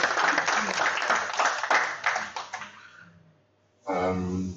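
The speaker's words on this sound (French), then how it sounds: "je propose déjà qu'on fasse un petit applaudissement pour Alexander pour cette présentation" Brief applause from an audience after a presentation: a burst of clapping fades away, then a new wave of clapping breaks out near the end. The sound is fairly faint and comes through a poor recording.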